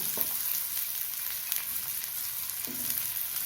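One large onion frying in a pan for a spring onion dal, with a steady soft sizzle throughout and a couple of faint stirring knocks, no talking.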